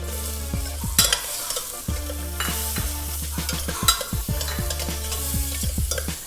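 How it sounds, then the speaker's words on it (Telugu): Chopped onion and green chillies fry in a pan for a broccoli almond soup, a steady close sizzle broken by repeated sharp clinks and scrapes of a spoon stirring against the metal. "ఇది గోల్డెన్ బ్రౌన్ వరకు వచ్చే వరకు వేయించుకోవాలి ఈ ఉల్లిపాయని."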